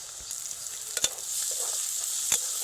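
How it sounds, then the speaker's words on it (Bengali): Mushrooms and onions stir-fried in a pan while a rice dish with taro stems and hilsa fish head is being cooked; a steady sizzle runs throughout, with a few brief scraping stirs and no voices. "আবার এক মিনিট মতো নেড়ে নেব পেঁয়াজের সঙ্গে মাশরুমটা দিয়ে দেবো"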